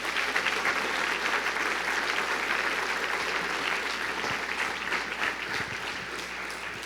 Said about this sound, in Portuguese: Aplaudir, aplauda forte.